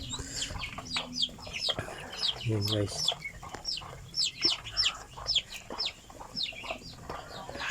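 Crossbred ducks (patok, a cross of native itik and pato) calling on a small backyard farm, a steady chorus of repeated clucking, chattering calls close by, with someone briefly talking over them.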